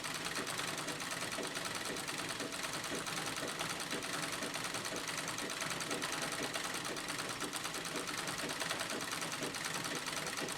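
Old-fashioned sewing machine quilting white denim runs continuously, a fast even mechanical whirring and ticking held at a steady level throughout, fairly quiet and close.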